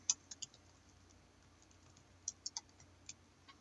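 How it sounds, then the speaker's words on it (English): Soft keystrokes on a computer keyboard, a few scattered quiet clicks in short bursts over a low steady hum. "I was typing in here."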